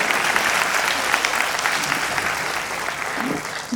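Sustained applause from a live audience at a Hindi comedy poetry (hasya kavita) recital, dense and steady clapping throughout, close and loud.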